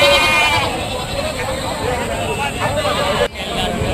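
Goats bleat loudly over a busy crowd of voices at a livestock market in Rajarampalli, India, calls overlapping close by, with a brief dropout near the end.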